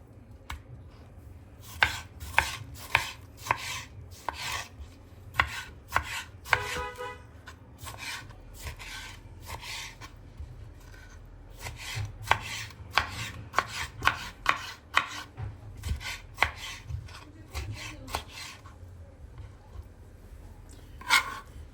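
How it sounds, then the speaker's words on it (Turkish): Rapid knife strokes chop tomatoes on a cutting board, crisp repeated taps in uneven bursts with brief pauses, close and fairly loud. "Hepsini doğrayıp geleyim"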